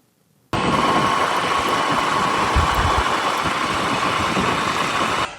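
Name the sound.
motorbike engine idling in traffic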